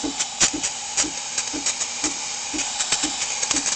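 Steam wand of a Breville Cafe Roma espresso machine hisses steadily with a rapid, regular sputtering pulse running through the broad hiss, close and continuous with no talking.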